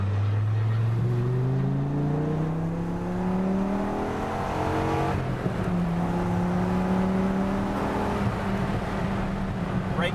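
A final-edition Dodge Viper GTS engine revs up through the gears, pitch climbing repeatedly then dropping at each shift, loud and close with steady road noise underneath.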